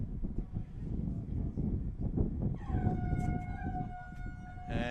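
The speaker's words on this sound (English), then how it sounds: "of the siren, there it is. It sounds in the background" A half-time siren at an under-14 boys' football match begins to wail partway through, sustained and distant, over a noisy crowd murmur and wind.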